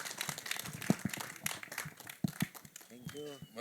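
Applause from an audience at the Kis Kisko Pyaar Karoon 2 trailer launch, a crackling spread of claps with a few sharp near hits, mixed with voices and crowd chatter throughout.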